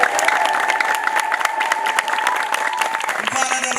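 A church congregation at an Ethiopian Orthodox Easter gathering ululates and cheers. A sustained high trill rides over dense, continuous clapping and crowd noise, with the trills shifting near the end.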